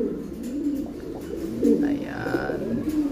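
A racing pigeon coos in soft, low, throaty phrases close by, with someone talking over and between the calls.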